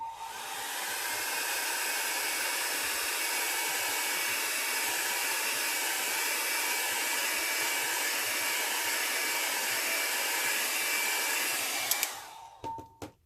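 A hair dryer blows steadily and loudly on alcohol ink for a sunflower painting, a continuous whooshing drone that runs about twelve seconds before cutting off, with a few faint clicks and handling noises after it stops.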